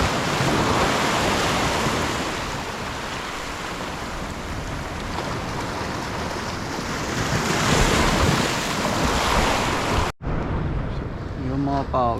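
Rough sea waves break and wash along the shore in a continuous loud roar, with wind buffeting the microphone throughout; a sudden cut near the end leaves a quieter stretch of surf.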